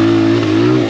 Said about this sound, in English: so Jordan got his bike started